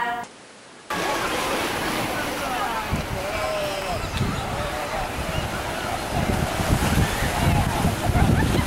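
Surf rolls onto the beach at Grote Knip on Curaçao, a broad continuous wash of waves with wind buffeting the microphone, building slightly louder toward the end after a brief quiet start.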